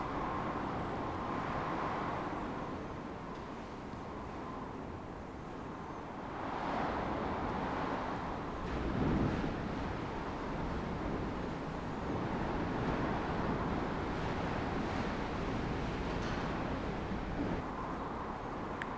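Strong wind roars and buffets a camera microphone outdoors, a steady broadband rush with gusts swelling and easing across the whole stretch, loud and continuous with no voices.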